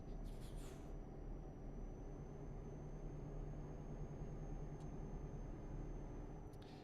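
A heavy truck in Euro Truck Simulator 2 brakes on a tight bend. A steady low engine rumble runs throughout, with a short burst of hiss near the start and faint ticks later.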